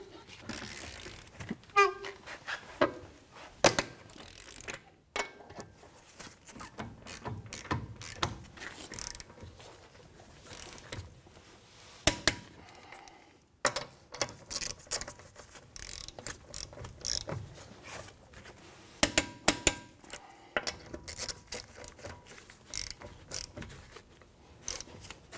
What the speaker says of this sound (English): now we're going to torque our lug nuts down to 94 foot-pounds